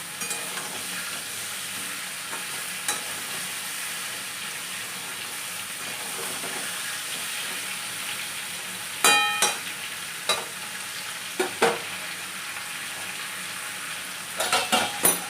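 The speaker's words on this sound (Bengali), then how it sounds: "ঝিঙে, কুমড়ো, আলু, আলু তো দিয়ে দিচ্ছি, ঝিঙে আছে, বেগুন আছে, কুমড়ো আছে" Ridge gourd, pumpkin, potato, eggplant and pointed gourd fry in oil with a moderate, even sizzle, punctuated later by several sharp clatters of a spoon against the pan.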